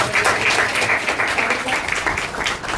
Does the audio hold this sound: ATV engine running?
no